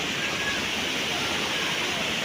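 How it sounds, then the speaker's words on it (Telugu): Loud water from the Krishna river at Singotam rushes in a steady, dense roar, a continuous broadband wash with no breaks and no voices. "ఇక్కడ కూడా నీళ్ళు అలలు ఎంతో సౌండ్ అయితే చాలా పెద్దగా వస్తుంది"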